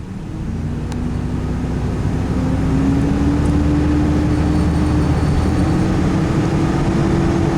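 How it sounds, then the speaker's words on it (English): A Toyota T100 pickup truck engine, just fitted with a new alternator, revs up to high speed. It makes a loud, steady drone with a slowly rising tone throughout, and no one speaks. "When you give it the gas and get it up to high speed,"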